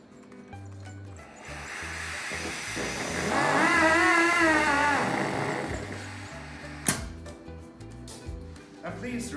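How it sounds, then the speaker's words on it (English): A Jetting MJet V1 duct cleaning machine, driven by air, spins up its engines with a rising whine over airy hiss, peaking and then easing off, while a steady pulsing pattern runs underneath. "when I increase air, the engines will start spinning, and the more they get, the faster and stronger the machine will get"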